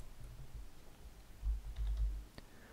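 Computer keyboard typing at a desk, a few quiet scattered clicks and taps over low background hum, with one sharper keystroke near the end.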